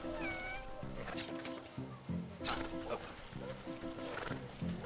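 A cat in the video game Wytchwood meows repeatedly in short, clear calls over layered game music and ambience.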